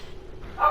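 A single short bark from a dog, fairly close, arriving right at the end after a brief quiet stretch.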